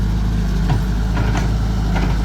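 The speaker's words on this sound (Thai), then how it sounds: "เร่งเครื่องเบาๆดูอ่ะ" A car engine idles and is revved lightly, a continuous close, loud low hum with small rises in pitch, no voices over it.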